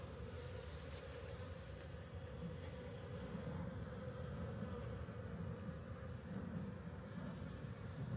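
Dense, steady buzzing of many bees around a hive during an inspection, a continuous swarming hum close by with no talking.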